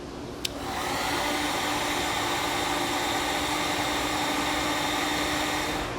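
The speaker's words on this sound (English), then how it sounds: "I'll come back with my heat gun and seal up the ends" A heat gun runs to seal the ends of crimped heat shrink connectors while wiring LED clearance and side marker lights on a trailer. It switches on with a click, then blows a steady, airy whoosh close by, with no voices.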